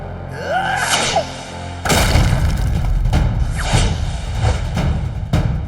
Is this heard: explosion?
yes